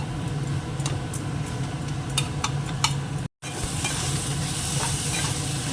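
Mushrooms fry in a pan with a steady, close sizzle and occasional stirring clicks, then a short cut before the frying hiss returns stronger and brighter.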